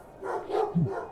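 A dog gives a short, mid-loud bark or yelp near the end, after a low murmur of background voices in a room during a tabletop game session.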